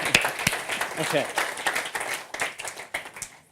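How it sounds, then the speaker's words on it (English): Audience at a tech conference demo claps for a volunteer, with scattered, uneven clapping under a speaker's voice. "A round of applause, please, for the volunteer."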